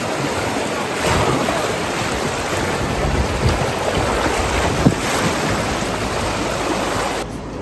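Fast whitewater rapids on the Chattooga River roar as a steady broadband rush, with wind buffeting the microphone and no voices.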